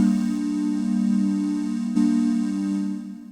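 Sustained synthesizer chords from a Novation Circuit groovebox pattern hold steady, with one chord retriggered midway, soft and even, fading slightly at the end.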